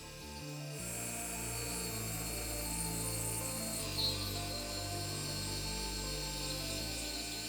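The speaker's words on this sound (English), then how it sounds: "Gotta remove all the old glue using a Dremel" A Dremel fitted with a metal drill bit grinding old glue off a sneaker's rubber outsole, a steady high motor whine with a faint abrasive rub that starts after a brief pause and runs continuously, quiet and close.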